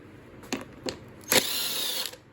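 A power driver with an 8mm bit works on a seat bolt of a KTM dirt bike: two short clicks, then a sustained whirring run of just under a second. Close-up and moderately loud, with no voices.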